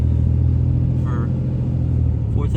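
A truck engine rumbles low and steady as the truck pulls out of a driveway, close and continuous, with someone talking over it.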